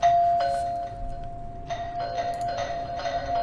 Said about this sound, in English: I hate when people keep ringing a doorbell.